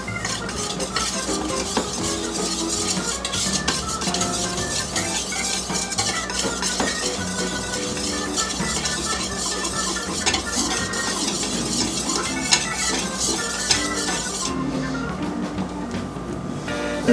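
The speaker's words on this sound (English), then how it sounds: "we're gonna take 3 1/3 cups of flour and add 1 1/2 teaspoons of salt and whisk that together" Flour and salt are whisked together in a bowl, producing a fast, steady scraping and ticking of wire against the bowl that runs throughout, close and moderately loud, with faint clinks and no talking.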